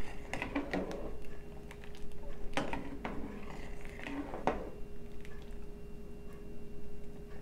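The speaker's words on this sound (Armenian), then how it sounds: "Կխառնեմ մի անգամ։" A spoon stirs simmering bean soup in a pot of water over low heat, giving a few soft scraping clinks against the pot spread over the first five seconds, then only a quiet steady background hum.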